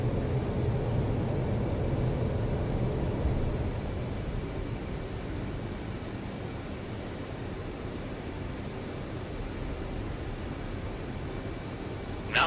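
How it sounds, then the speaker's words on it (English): Jet aircraft climbing away from the runway after takeoff in the DCS flight simulator, a steady, loud broadband engine and wind roar that continues without a break. "the aircraft will pitch up off the ground and begin climbing away from the runway"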